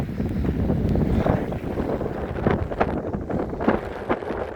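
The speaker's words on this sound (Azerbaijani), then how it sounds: "Yani hal-hazırda külək var." Wind blows steadily across a village lake, a continuous gusty rumble and buffeting noise on the microphone with no voices.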